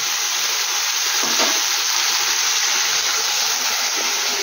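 Potato and flat beans fry in a pan with a loud, steady sizzle, a dense crackling hiss that holds evenly throughout with no voices.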